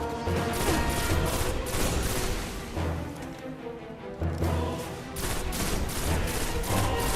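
Rocket launcher fire in the shooter game Destiny, a dense loud barrage of blasts and explosions that runs almost continuously, dips briefly at the midpoint, then resumes.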